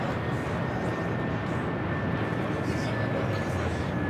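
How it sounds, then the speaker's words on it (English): A Delta Airlines Airbus A321neo arriving from Kahului gives off a steady, loud broadband jet roar with a faint whine running through it, sustained without break. "This arrival is Delta Airlines 425 coming in from Kahului on the A321neo."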